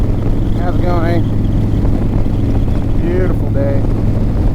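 Steady, heavy rushing noise like strong wind buffeting a microphone on a moving 2024 Harley-Davidson Low Rider ST motorcycle on a windy day, with a couple of brief higher squeaks over the constant roar.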